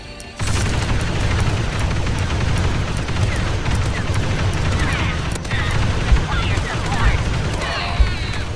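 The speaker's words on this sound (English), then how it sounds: "Oh, they got a chain gun." Sustained chain gun fire in a Star Wars VR shooter, a dense, continuous roar of rapid rounds with a few heavier booms near the end, with a player talking over it.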